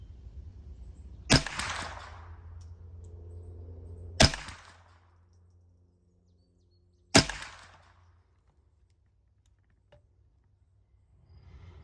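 Three sharp rifle shots fired through a green dot sight, each a loud crack with a short decaying tail, spaced about three seconds apart over a low steady hum.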